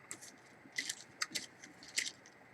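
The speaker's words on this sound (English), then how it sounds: "that's my dog chewing on his bone" A dog gnaws on a bone nearby, with quiet, irregular bursts of crunching and biting against a faint background hum.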